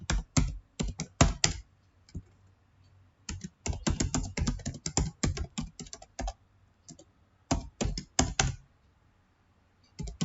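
Close, crisp keystrokes as C++ code is typed on a computer keyboard, coming in rapid clusters separated by short quiet gaps, with no one talking.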